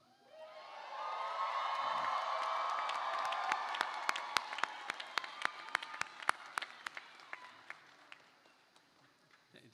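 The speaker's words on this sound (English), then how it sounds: "I now feel like I got the biggest applause." A large crowd applauds and cheers at the close of a winter commencement ceremony, a broad wash of clapping with whoops that holds steady for several seconds, then thins into scattered individual claps as it fades.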